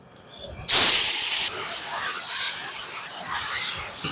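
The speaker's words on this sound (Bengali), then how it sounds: "দিয়ে দেবো টমেটো কুচি" Chopped tomato dropped into hot oil with dry red chilli and five-spice tempering bursts into a loud hiss that stays close and strong, ebbing and swelling as it settles, with no talking.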